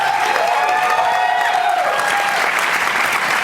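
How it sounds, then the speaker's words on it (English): A crowd gives sustained applause with some cheering for youth forum participants, dense and even throughout, while a few voices call out over the clapping. "Let's give an applause for all of them"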